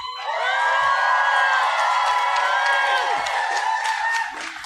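A live podcast audience at a comedy club cheers, whoops and screams with clapping mixed in, loud and sustained throughout before tapering slightly at the end.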